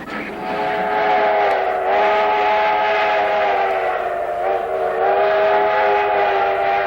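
The Durango to Silverton train sounds a long, loud, sustained whistle blast, close by, that holds for several seconds with slight wavering.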